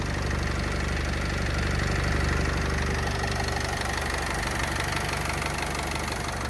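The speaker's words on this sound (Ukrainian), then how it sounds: "автомобіль реально тихесенько працює" A 2013 Opel Vivaro passenger van with a 2.0-litre 115 hp engine idles steadily, a smooth, even diesel hum with a faint rhythmic knock, continuous and close, with no talking.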